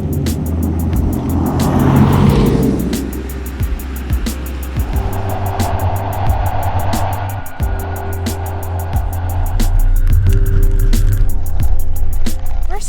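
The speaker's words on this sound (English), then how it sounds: "we're driving Porsches today in the snow and on the ice." Porsche driven on snow and ice at a Vermont ski resort, a steady loud engine roar with revs rising and falling, tyres crunching over snow, and no talk.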